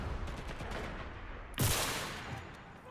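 A single sharp gunshot in the shooter game Enlisted cracks out midway through a dense wash of battlefield noise and distant firing, loud and close, with a brief decaying tail.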